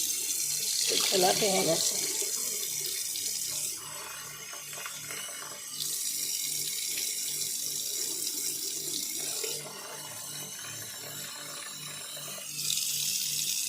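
Water poured from a tap over cooked rice in a sink, a steady close splashing stream running in several bursts with short pauses between them, while someone speaks briefly near the start.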